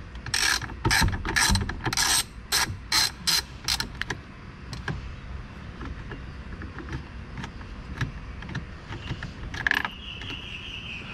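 A ratchet wrench backs out 10mm dashboard bolts in a 2008 Mitsubishi Lancer, with a rapid run of loud clicking bursts up close, then quieter handling and faint rattles.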